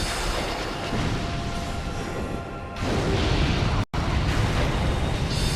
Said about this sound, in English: Oh boy, get away from that explosion.